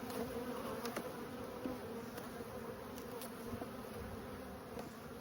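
Honey bees buzz steadily at an open hive full of foragers, a dense close drone that holds at an even level throughout with no voices.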